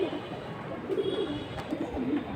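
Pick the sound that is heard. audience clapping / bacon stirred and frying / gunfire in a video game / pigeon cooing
pigeon cooing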